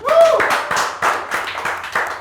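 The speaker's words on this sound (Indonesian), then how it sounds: "Tepuk tangan dong" A small group claps hands in quick, uneven bursts, several sharp claps close by, with a brief voice at the start in an indoor talk-show setting.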